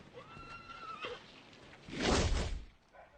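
A horse gives a high whinny, followed by a loud, breathy snort and a few soft hoof thuds nearby.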